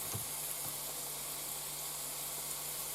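Onion frying in a pan: a steady, faint sizzle and hiss runs throughout, with a couple of soft pops near the start, and no voices.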